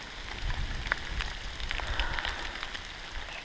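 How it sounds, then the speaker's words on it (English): Steady rain patters on the ground and foliage along a forest trail in the Black Forest, a soft, even wash of drops close by with no talking. "Yes, it would just stop raining."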